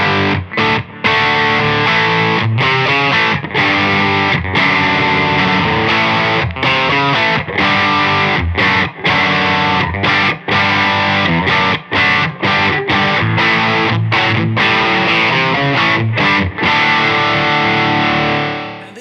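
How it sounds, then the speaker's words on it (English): Electric guitar played through an Electronic Audio Experiments Limelight, a blues breaker style overdrive pedal with a built-in boost, giving a loud, driven, continuous riff with brief choppy pauses and no voices. "For this one, I'm using Electronic Audio Experiments Limelight, which is a blues breaker circuit"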